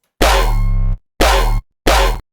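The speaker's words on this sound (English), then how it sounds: "That's a really heavy dubstep gun sound." Three loud, heavy dubstep gun bass blasts made in Serum 2, gritty and distorted, the first longer and the next two short, separated by brief silences.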